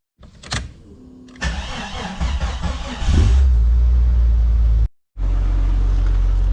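The engine of an old Jeep wrecker starts: a click, then about two seconds of cranking before it catches. It settles into a loud, steady idle with a brief cutout near the end.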